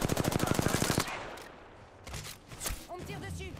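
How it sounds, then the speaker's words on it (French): Automatic gunfire in the Apex Legends video game, a fast loud burst of rapid shots that stops after about a second, then softer game effects and a chime-like tone. "On me tire dessus."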